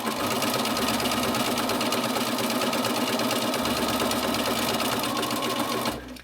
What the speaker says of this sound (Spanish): lo que te recomiendo es que utilices una puntada zigzag como esta